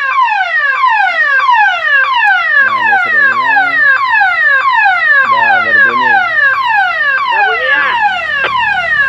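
Homemade landslide warning alarm blaring continuously, a loud, rapidly repeating descending electronic siren sweep, with a few brief voices and tones faintly underneath.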